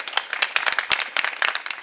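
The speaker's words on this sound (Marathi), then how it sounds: "टाळ्या वाजवा" Audience at a Marathi kirtan clapping hands in a brief, uneven burst of many separate claps, fairly close and lively, with no talk over it.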